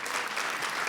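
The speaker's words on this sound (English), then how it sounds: "give them a round of applause as well" Audience applause for sponsors at a scholarship awards celebration, a dense, steady wash of clapping that fills the whole short moment with no voices on top.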